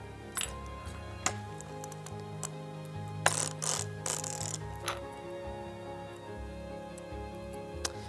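A circular sock knitting machine runs under heavy tension, giving off rhythmic metallic ticks and clinks with a few louder ratcheting bursts over a low mechanical hum, heard up close and fairly quiet.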